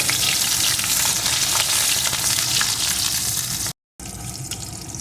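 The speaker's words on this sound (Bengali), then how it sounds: "এর ভিতরে আমি দিয়ে দেবো কয়েক টুকরো পটল পটলটাকে একটু ভেজে নেব" Pointed gourd (potol) pieces frying in hot tempering oil, a loud, dense, continuous sizzle close by with a brief cut-out near the end, no voices.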